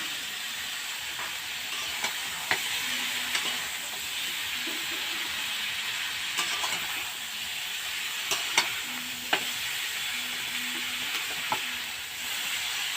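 Ground ginger paste fries in a hot pan, a steady close sizzle and hiss broken by occasional sharp clicks of a spatula stirring against the metal.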